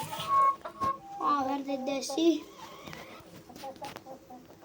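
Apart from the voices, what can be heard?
chickens clucking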